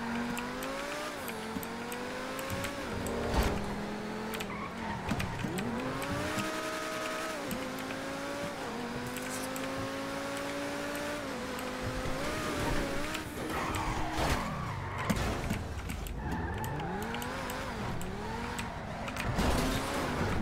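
A car in GTA V engine races at high speed during a police chase, the pitch climbing and dropping through repeated gear changes, with occasional tire squeals, continuous and loud throughout.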